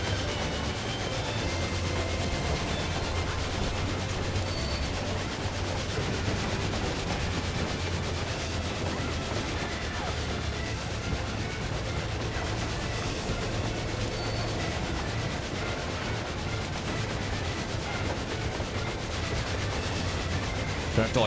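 A train rumbles steadily through a scene in the video game Final Fantasy XIV Endwalker, loud, continuous rolling noise with low drone and faint clatter throughout, no clear voices.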